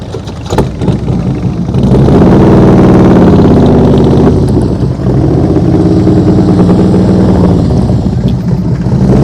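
Motorcycle engine held under throttle during slow-speed riding practice, a loud close rumble that rises and sustains steadily with slight swells, no talk over it.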